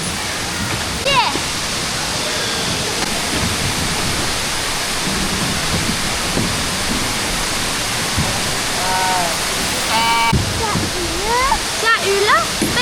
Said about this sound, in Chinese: 小瀑布，哇！